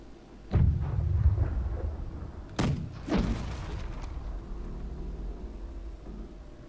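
Schooner cannons fire in a naval video game: a booming shot, then a second pair of heavy blasts a couple of seconds later, each trailing into low rumbling echo, with no talk.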